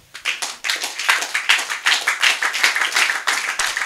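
A church congregation claps in praise of the Lord, with brisk, fairly regular claps from many hands sustained for several seconds and no clear cheering heard over them.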